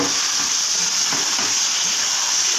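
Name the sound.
fish with salt and turmeric frying in spiced oil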